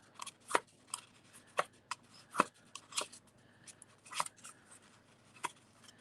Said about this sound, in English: what I really want is that cardstock to peel apart